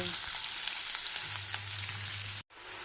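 Whole garam masala, thinly chopped onions and green chillies fry in a pan with a steady, soft sizzle and crackle, close and continuous, cut by a brief dropout near the end.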